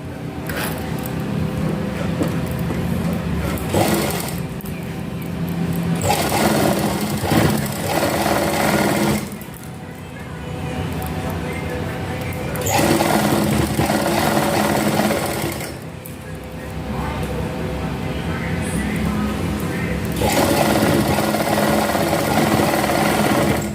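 An electric sewing machine stitches an old suit in long, loud, fast-running bursts, near and mechanical, pausing briefly a few times before starting up again.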